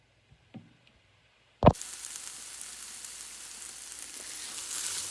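Okra sautés in a pan, starting with a few faint clicks before a sharp sizzling burst as it hits the heat, settling into a steady, close crackling fry that gradually builds in intensity, with no voices over it.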